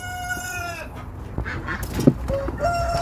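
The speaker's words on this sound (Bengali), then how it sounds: "এই যে সব রাতা, পুরুষ মোরগ মোরগ" Sonali chickens and roosters at a poultry market, a crowing call fading out at the start, then close clucks and squawks from several birds over a busy background.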